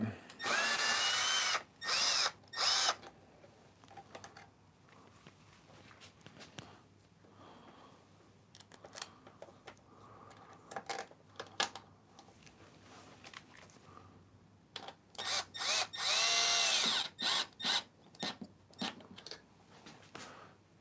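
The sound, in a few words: power tool undoing a bolt on a BMW R1250GSA motorcycle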